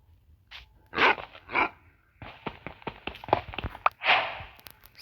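A dog gives several loud, close barks in separate bursts, broken by quieter yelps, whimpers and sharp knocking sounds.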